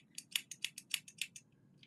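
Quick run of close, crisp snips from scissors cutting yarn, about nine cuts in rapid rhythm with a short pause before a final snip.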